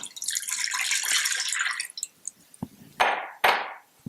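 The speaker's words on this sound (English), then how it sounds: "we are going to add 2 cups of water to the Instant Pot" Two cups of water pour into an Instant Pot, a close, bright splashing stream for about two seconds, then a few scattered drips and two sharp clunks as the pot or cup is set down, with no talking.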